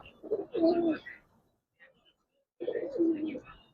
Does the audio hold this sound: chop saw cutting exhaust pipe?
no